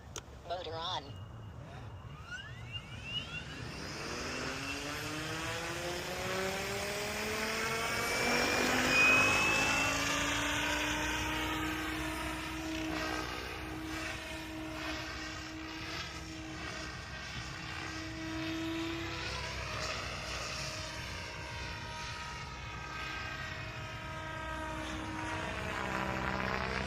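A drone's electric motors spin on a windy day, a steady whirring drone with pitch sweeps rising and falling as the craft maneuvers, fairly close and continuous.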